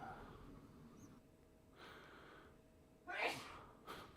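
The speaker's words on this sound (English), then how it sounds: "I'm going to sneeze." A person sneezes during a live online show, a short sharp burst followed by a smaller second one, faint against low room noise.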